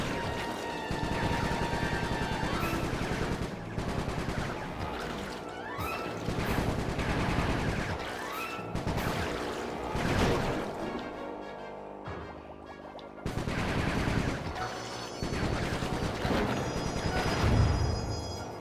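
Bentley's gunfire in Sly 3 rattles off in dense bursts and crashes, loud and nearly continuous over busy game music and effects, with a brief dip before the barrage resumes.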